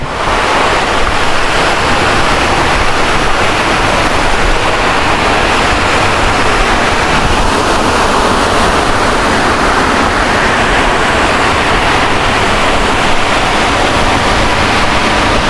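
Marachuvadu waterfall in Idukki pours in a dense, loud, continuous roar with no break and no voices for fifteen seconds.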